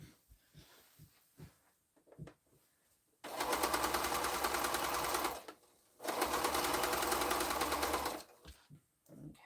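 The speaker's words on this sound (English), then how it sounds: "I'm going to go ahead and I'm going to sew down that." Sewing machine stitching down quilt fabric, running in two steady, fast-rattling bursts of about two seconds each with a brief stop between, close and clear, with faint handling clicks before and after.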